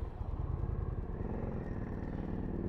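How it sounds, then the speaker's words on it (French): An Indian Challenger motorcycle engine fires up and settles into a steady, throaty low rumble close by, running on without pause. "j'appuie sur le démarreur."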